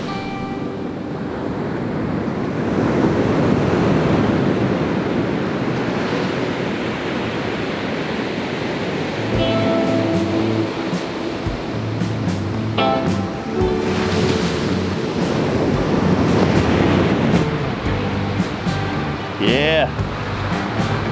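Ocean waves wash onto a beach in Hawaii at sunset, a loud, continuous roar of surf swelling and receding, with people talking over it and wind buffeting the microphone.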